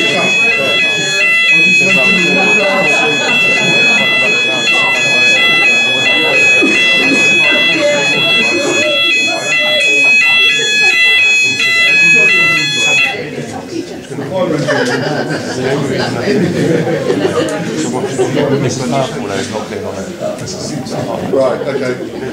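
A building alarm blares during a housing and homelessness hustings meeting, loud and steady for about thirteen seconds before cutting off, leaving room chatter and voices underneath.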